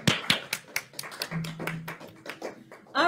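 Scattered handclaps from an audience at a practitioner licensing ceremony, irregular and fairly close, building into a brief ragged round of applause over about three seconds.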